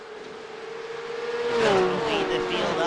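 Porsche Cup Challenge race cars at Watkins Glen, engines droning steadily and rising in pitch as they accelerate onto the start-finish straight, growing louder toward the end under a race commentator's voice.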